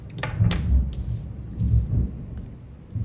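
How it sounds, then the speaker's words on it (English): Thunder outside on a stormy day, heard from indoors as low muffled rumbles rolling in a few swells over a few seconds, with faint small knocks nearby and no talking. "Boy, do you hear that thunder?"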